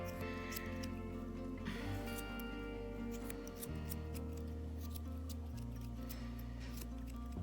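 Scissors trim wet, reddish fur on a dog's feet, making soft, sparse snips over a loud, constant low hum that dominates throughout.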